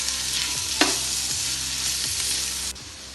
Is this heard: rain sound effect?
no